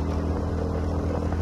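Motorbike being ridden on a cold day, its engine running as a steady, fairly loud drone with continuous wind rumble, no talking.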